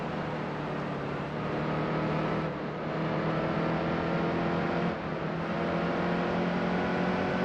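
Race cars lap a track in NASCAR Heat 2 with a steady, muted engine whine and drone, rising and falling slightly as cars run the high line, with no talk.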